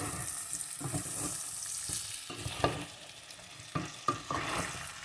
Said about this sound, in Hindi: नमक हमने अच्छी तरह मिक्स कर दिया।